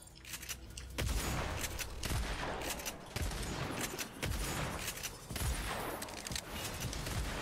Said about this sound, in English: This shotgun really has range.